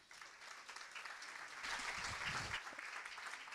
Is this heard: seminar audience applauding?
yes